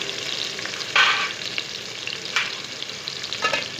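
Chopped onions frying in hot oil in a home kitchen pan, a steady close sizzle broken by a few louder scraping stirs, with no talk over it.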